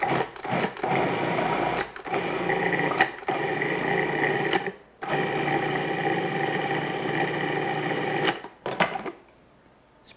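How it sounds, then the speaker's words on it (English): Food processor mixing cream cheese until smooth, a loud whirring motor running in bursts with brief stops between, close by, ending in a short pulse and quiet. "It's great about the food processor. Makes quick work of it."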